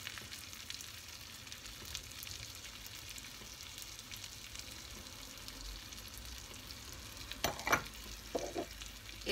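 Almonds, cinnamon and sugar are stirred together in a pan with a continuous soft scraping and faint sizzle, and a few louder knocks of the spoon come near the end.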